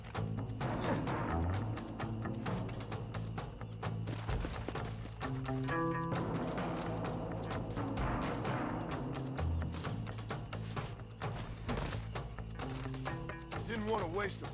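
Horse hooves thudding in the video game Red Dead Redemption, a steady galloping rhythm mixed under game music and other in-game sounds.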